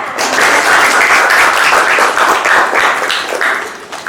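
Classroom applause from students, a dense, steady burst of many hands clapping close by for about four seconds, fading slightly at the end.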